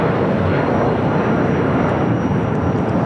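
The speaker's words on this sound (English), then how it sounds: "This is United Airlines Flight 1591 taking off to Houston Intercontinental on a 757-200" United Airlines Boeing 757-200 jet taking off at LAX for Houston, a dense, loud, steady engine roar with deep rumble filling the few seconds, no one talking.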